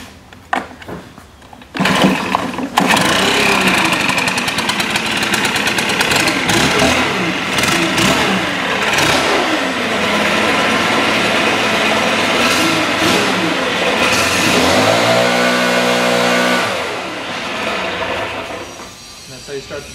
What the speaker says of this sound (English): And that's how you start the blower.